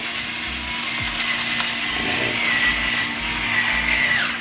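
A pepper grinder being twisted over salmon in a home kitchen, adjusted to a finer grind, gives a steady, close, gritty grinding texture lasting several seconds over a constant background hum.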